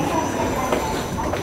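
Steady rumble of a train running, heard from inside a nearly empty Japanese train car near Hiyoshi, with a continuous close wheel and track roar and faint squealing accents throughout.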